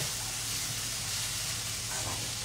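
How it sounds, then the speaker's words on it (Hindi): Peas tipped into a hot pan with tomatoes for an Indian gobhi, matar and gajar sabzi, sizzling and hissing steadily and close by throughout, with a low hum underneath and no talking. "तो अब इस पॉइंट में मैं डाल रही हूँ मटर"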